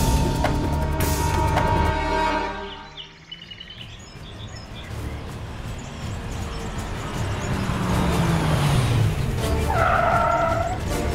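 A car on a road pulls up and brakes to a stop with a loud tyre skid and fading engine, then settles into idle while birds chirp nearby.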